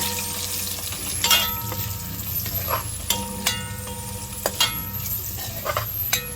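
Curry powder sizzles and fries in hot oil for Jamaican curry crab, a steady close crackle broken by occasional clinks and stirring knocks of a utensil against the pot.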